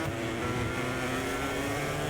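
Engine of a Honda MotoGP bike in the racing game MotoGP 24, a steady high-revving drone held loud and continuous throughout, with no talking.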